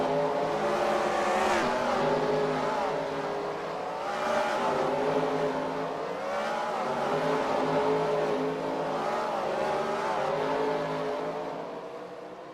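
Race cars leaving pit road at Michigan in the NASCAR Racing 2003 video game, a pack of simulated engines revving and rising in waves, several cars droning and overlapping at moderate loudness.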